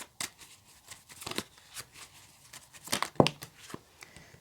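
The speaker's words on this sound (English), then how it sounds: "cannot shuffle this deck for the life of me today," Close, papery riffling and snapping of a tarot deck being shuffled, with irregular bursts and soft taps, no talking.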